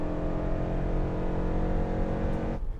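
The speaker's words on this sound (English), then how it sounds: "the thing that kind of sucks about it is that the CVT sound is so like obnoxious and not good" A 2024 Toyota Sienna Limited hybrid minivan accelerates with a steady, loud CVT drone holding a constant engine pitch for nearly three seconds before it cuts off abruptly.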